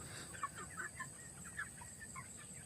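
Rhode Island Red chickens clucking in a steady scatter of short calls, with several birds overlapping at moderate distance and no voices.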